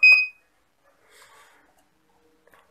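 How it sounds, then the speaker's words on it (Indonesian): An XM 18 controller's alarm gives one short, sharp electronic beep at the start, followed by near silence with faint indistinct sounds. "Controller sudah hidup. Untuk menghilangkan alarm, kita tekan tombol panah bawah."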